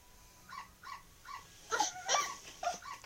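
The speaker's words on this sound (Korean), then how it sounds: "멍멍이다." A dog gives a series of short, high yips and whimpers, a few soft calls followed by louder, sharper ones, fairly close and alone without talk.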